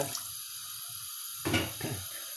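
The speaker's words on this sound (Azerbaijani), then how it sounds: "bir əcə su əlavə edirik bura" Water poured into a cooking pot for potatoes and carrots, a short quiet splashing burst after a low hum, close and faint, no talking.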